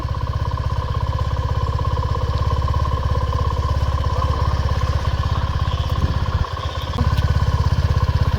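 A Suzuki V-Strom SX 250 motorcycle idles steadily up close through a dual-nozzle exhaust, with a rapid, even putter, dipping briefly before settling back into its rhythm.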